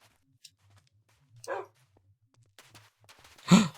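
A pet dog in Minecraft gives a few sparse barks and yips, with a short whine near the middle and a louder, sharper bark at the end, set against quiet background.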